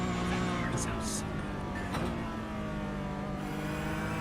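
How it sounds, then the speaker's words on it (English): A Porsche Cup race car engine drones on track, a steady tonal hum that stays fairly faint and even for about four seconds. A commentator's voice runs over it. "That car sounds so"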